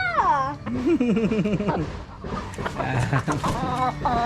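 Chickens cluck and squawk nearby, overlapping with people talking and a voice.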